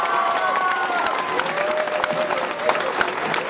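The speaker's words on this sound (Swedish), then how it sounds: "Ge henne en jätteskön applåd när hon går nu" Audience applause in a hall at a gathering of red-green party leaders in Växjö as Maria Wetterstrand leaves, steady clapping with some tonal voices or whistles mixed in throughout.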